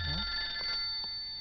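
A telephone rings with steady electronic bell-like tones, sustained through the short moment at moderate loudness, with a low thud at the start and no talking over it.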